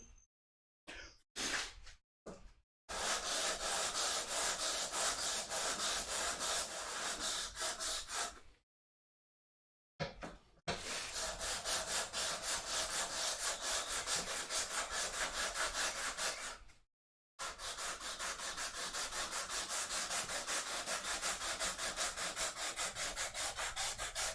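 Sandpaper rubs back and forth across a wooden bookend in long runs of steady rasping strokes, broken by a few short pauses and quick scrapes at the start.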